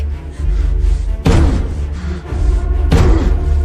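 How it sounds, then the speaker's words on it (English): Heavy fist blows pound on a steel door, two loud slamming bursts with booming low thuds ringing out over continuous rumbling background noise. "Jack is banging frantically on the steel door, shouting for me to open it"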